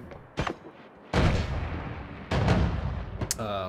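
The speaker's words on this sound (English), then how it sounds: "So much explosions." Explosions in the game Noita: loud, booming blasts go off in rapid succession, with sharp cracks and sustained rumbling noise between the bursts.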